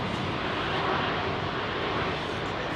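A China Eastern Airbus A330 rolls on the runway at Heathrow, its engines giving a loud, steady, broadband roar that holds evenly close by throughout, with no talk over it.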